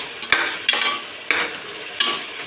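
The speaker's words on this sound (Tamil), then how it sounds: "தக்காளி வெங்காயம் வணங்கிச்சா பார்ப்போம் நல்லா வணங்கிட்டுருக்கு" Tomatoes and onions sautéing in a pan for vegetable biryani, a soft continuous sizzle broken by four scraping stirs spaced roughly evenly, heard close with no voices.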